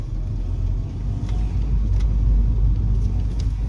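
Car cruising on a motorway during a road test after a gearbox fix, a steady close engine and road rumble with tyre noise filling the cabin, no one speaking.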